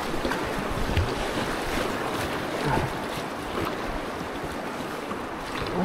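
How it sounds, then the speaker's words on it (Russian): River waves slap and wash around a kayak on the Yenisei's Sukhaya Tunguska, mixed with a constant roar of wind buffeting the microphone, loud and close, with no speech. "Как нормальные волны"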